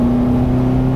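Caterham 420R with a 2-litre, non-supercharged engine producing 210 brake horsepower, droning steadily at close range with a strong, even tone and no talk over it.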